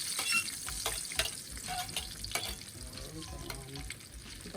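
Garlic and onion frying in oil over a Smokepot, a steady broadband sizzle with crackling pops and occasional utensil clicks, close and continuous.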